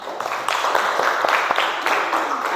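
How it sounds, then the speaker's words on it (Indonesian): Classroom applause from a group of students, a dense patter of many hands clapping steadily and close for a couple of seconds. "Mari kita apresiasi kita semuanya dengan tepuk tangan untuk kita semuanya."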